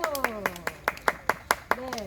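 An audience claps at an outdoor children's eco-theatre movement play in a Seongnam park, with about ten steady, evenly spaced claps running under a presenter's voice.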